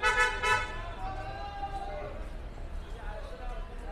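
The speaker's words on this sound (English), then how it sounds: "Traffic is pretty intense today." Car horns honk in busy downtown Cairo street traffic. Two short toots come near the start over a constant traffic rumble, with voices faintly in the mix.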